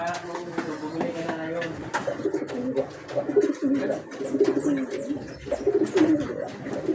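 Pigeons coo in low, throaty repeated phrases, several birds close by, with a person talking intermittently over them.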